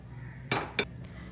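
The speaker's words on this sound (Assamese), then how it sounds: "এতিয়া মই পাতি দিছোঁ কুকাৰটো, যিহেতু কুকাৰত বনাম।" A pressure cooker set down on a stove, heard as two sharp metallic clanks in quick succession followed by a faint lighter tap, close and clear over a low background hum.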